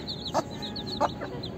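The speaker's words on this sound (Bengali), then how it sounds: "আর এই কালো মুরগিটার সাথে 8টা বাচ্চা আছে" Silkie and local hens with their chicks give a couple of short, soft clucks over a thin run of high chick peeps, fairly close and fairly quiet.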